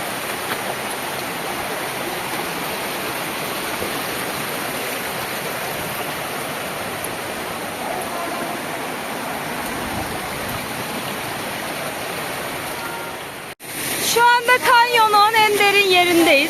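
Water rushes through a canyon stream in a loud, continuous broadband roar up close. A voice speaks over the flow near the end.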